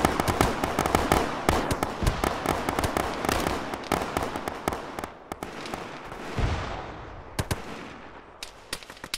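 Dense, rapid gunfire from an Arma military simulation firefight, with overlapping bursts of automatic fire and sharp single cracks, loud and continuous, easing briefly before closer shots resume.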